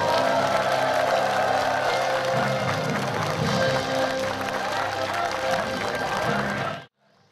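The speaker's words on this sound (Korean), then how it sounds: "새로운 지도자 천정배 의원을 힘찬 박수로" A large audience at a Korean political rally gives a loud, dense round of applause mixed with cheering to welcome politician Chun Jung-bae, sustained for several seconds before cutting off abruptly.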